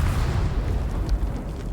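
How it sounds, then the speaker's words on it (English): A rumbling explosion effect from the video game Deep Rock Galactic, a dense low boom that rolls on steadily for under two seconds with no talk. "I really love that new explosion effect they added"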